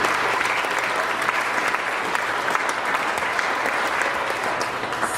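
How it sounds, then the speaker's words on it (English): Wedding guests clap for the couple in a steady, dense round of applause from a room full of people, continuous throughout with no talking over it. "And give them another round of applause because they're amazing."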